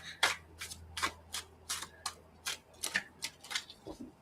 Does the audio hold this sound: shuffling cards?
yes